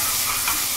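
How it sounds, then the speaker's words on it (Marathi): A spoonful of dal hits hot oil tempered with cumin and asafoetida, giving a brief, loud, steady sizzling hiss up close with no voices. "ही अशी 1 चमचो डाळ आधी वतून घेते."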